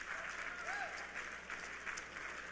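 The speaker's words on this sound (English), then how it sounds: "So how about a round of applause for everyone here?" Applause from a seated audience at a business gathering, a steady, even patter of many hands clapping, heard at moderate distance and fairly quiet, with faint voices mixed in underneath.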